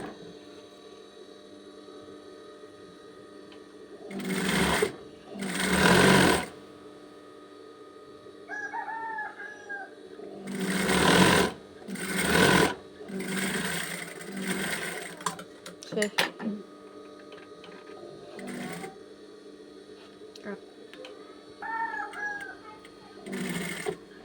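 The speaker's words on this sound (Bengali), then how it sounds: "এবারে আমি হাতার মধ্যে আসছি, হাতাটা সেলাই করব।" A sewing machine stitches the sleeve of a dress in bursts of close, loud mechanical whirring separated by pauses. A low hum runs underneath, and a rooster crows twice in the background.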